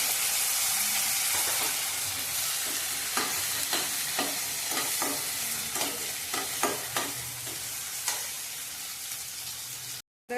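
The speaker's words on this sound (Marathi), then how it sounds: "कांदा हलकासा गोल्डन कलर आलाय, त्यातच एक टोमॅटो बारीक चिरलेला भाजून घ्यायचा आहे।" Finely chopped tomato frying with onions in oil in a kadai over medium heat, a soft constant sizzle with regular scraping strokes of a spoon, close and alone.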